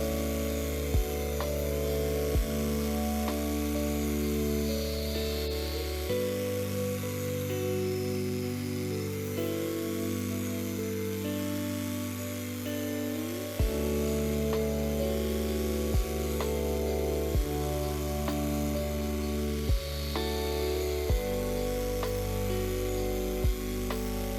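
A power saw with set bevel and depth stop cuts into wood in a workshop, a loud whining motor drone rising and falling through repeated passes, with brief ticks between cuts and no talking.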